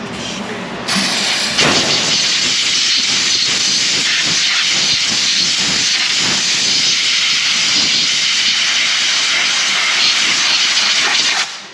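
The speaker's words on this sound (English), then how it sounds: "let's do brake clean pressure washer" A pressure washer spraying the brakes of a 2010 Mazda 3, a loud, continuous, forceful hissing blast that starts abruptly and holds steady up close, with no talking.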